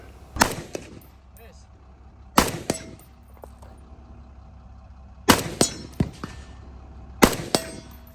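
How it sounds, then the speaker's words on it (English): FN FAL rifle fired at the Finnish Brutality 2023 shooting competition, four loud, sharp shots spaced a couple of seconds apart, each followed by a ringing metallic clang of the struck steel target. "here's a bit of footage of Jordan shooting one of Ian's, as in Forgotten Weapons Ian's, FALs at Finnish Brutality 2023."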